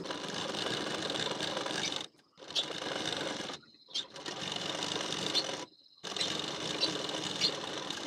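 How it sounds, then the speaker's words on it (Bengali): A sewing machine runs in four fast, whirring bursts separated by short pauses while stitching double-folded cloth for a blouse latkon, sounding close and steady. "ঠিক এইভাবে করে একটি সেলাই দিয়ে নেব।"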